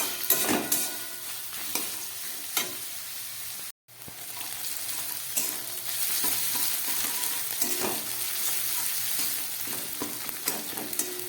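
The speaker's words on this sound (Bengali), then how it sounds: "পেঁয়াজ আর ক্যাপসিকামটাকে আমি এটা খুব ভালো করে একটু ভেজে নেব।" Onion and capsicum fry in a pan for paneer malai curry, giving a steady close sizzle with scattered stirring scrapes and one brief break in the sound.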